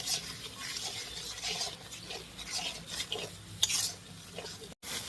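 Spice paste for a river fish curry (madhubhola fish in oil and chili) being stirred and fried in oil in a pan, giving a steady close scraping and sizzling with small utensil clinks and a brief gap near the end.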